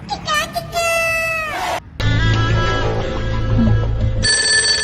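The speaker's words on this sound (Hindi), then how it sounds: "फोन किसका आ गया अब?" A phone rings with a steady electronic tone that shifts pitch partway through, close and loud, following some high voice-like sounds.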